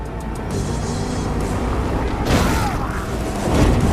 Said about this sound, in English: Our hero hits the jump and wham! There's an explosion!